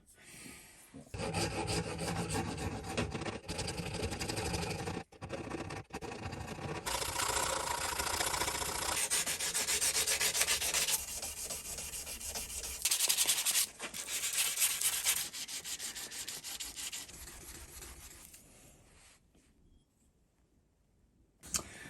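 Close rasping and sanding strokes rounding a small radius onto wooden parts for a handmade low-profile plane, continuous steady friction with short pauses that fades out near the end.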